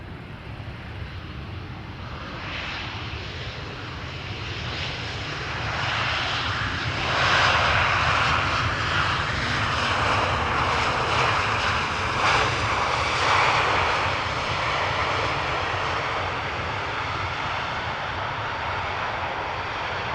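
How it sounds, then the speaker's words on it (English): An Airbus A320neo jet arriving at Amsterdam Schiphol gives a steady, broad engine roar that swells gradually and holds loud through the middle before easing slightly, heard alone without voices. "This is an A320neo, behind it is an Aegean A321neo. So should sound the same, just a slightly longer fuselage."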